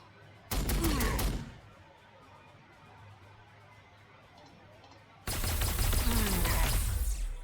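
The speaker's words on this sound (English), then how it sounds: "So the more we shoot, the more likely we are to actually get through the force field, do some damage" Two loud, rapid bursts of gunfire from the Warhammer 40,000: Sanctus Reach strategy game, about a second and two seconds long, separated by a quiet battlefield hum.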